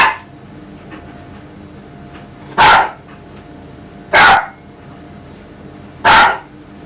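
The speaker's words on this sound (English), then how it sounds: "What are you barking at, Mischief?" A small pet dog barks indoors, three sharp, loud, evenly spaced barks about a second and a half apart, with a faint background hum between them.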